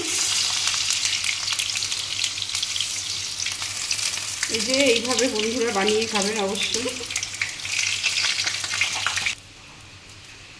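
Chital fish balls (muitha) fry in hot oil with a steady, fairly loud sizzle and crackle. A person speaks briefly partway through, and the frying noise drops away abruptly near the end.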